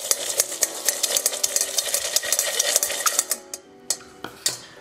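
Walnuts being stirred into a mixture in a bowl, a steady run of close, clattering scrapes and taps that grow sparser and more spaced toward the end, with no talking.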